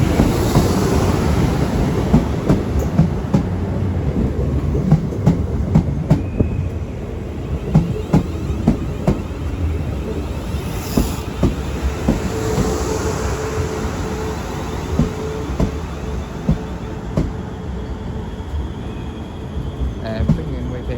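A South Western Railway class 450 electric unit, 450-121, arrives from Guildford at a London terminus, with a steady rumble of wheels and motors, repeated rail clicks and station noise over the whole stretch.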